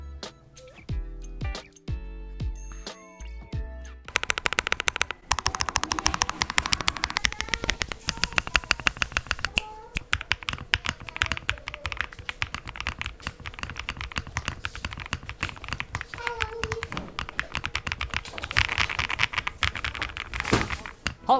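Typing on a mechanical keyboard fitted with Majo Y3 switches, muffled keystrokes in fast irregular bursts, a few isolated presses at first then continuous clattering up close.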